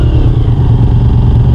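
A motorcycle engine idles steadily and loudly up close after being shifted into first gear, with a low, continuous throbbing rumble and no voices.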